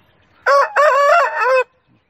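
An Aseel rooster crows close by, one loud sustained cock-a-doodle-doo call lasting about a second with a brief break near its start, standing alone without talk.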